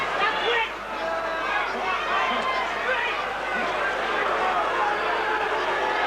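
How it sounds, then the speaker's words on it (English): A boxing arena crowd during a Mike Tyson versus Pinklon Thomas fight, a broad sustained roar of disapproval from a large audience, with a commentator talking over it throughout. "the crowd are booing there"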